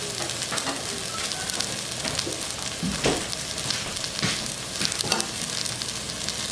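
Vegetables cooking in a covered pot for a Puerto Rican corned beef dish: a steady soft sizzle and bubbling crackle, continuous and moderately quiet, with no talking.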